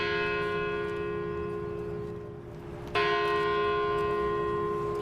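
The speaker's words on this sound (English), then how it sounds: "It was 90 seconds of bells for 9 years of life." Church bells tolling at a child's funeral, sustained ringing tones that fade slightly before a fresh loud strike, heard alone without talking.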